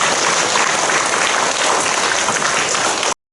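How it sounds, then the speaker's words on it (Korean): A church congregation at a Monday worship service in a large auditorium gives dense, vigorous applause that holds steady at full strength, then cuts off abruptly. "힘차게 감사의 박수 한번 주시겠습니다."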